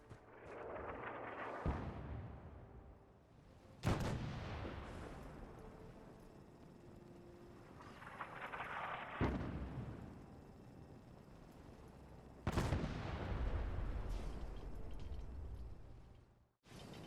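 Artillery test fire in Fallout 4: three heavy booming impacts spaced several seconds apart, each with a sharp onset and long rumbling tail over a constant low roar.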